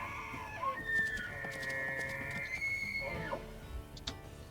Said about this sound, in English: That bull elk just sitting there screaming.